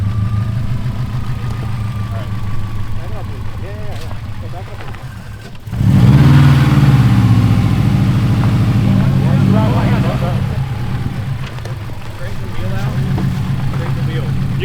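A rally car engine idles and chugs while backing up on a rocky stage, then revs up sharply in a loud, close burst before settling back to a rough idle, with people talking nearby.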